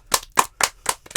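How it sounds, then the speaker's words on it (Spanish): Applause welcoming a guest onto a podcast: five sharp, evenly spaced claps close to the microphone, each a crisp isolated smack with silence between. "presentémosla con un fuerte aplauso"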